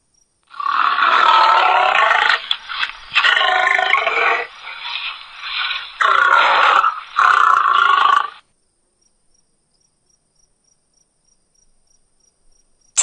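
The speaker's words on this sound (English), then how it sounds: "Lion." A lion roars in several loud, rough bursts with short gaps between them, close and unaccompanied, then silence.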